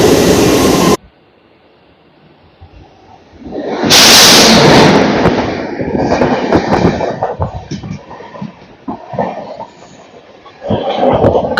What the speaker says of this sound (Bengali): কালকা হাওড়া নেতাজি এক্সপ্রেস।